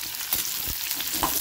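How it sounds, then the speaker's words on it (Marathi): Red pumpkin pieces fry with green chillies in a hot pan, a close steady sizzle broken by scraping stir strokes. "डांगर त्याच्यात टाकून द्यायचं, आणि टाकल्यानंतर मग त्याला चांगलं हलवायचं"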